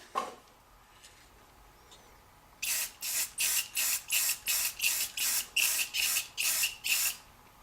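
After a quiet start, a rapid series of about a dozen short, evenly spaced hissing bursts, like a spray can being pumped in quick pulses.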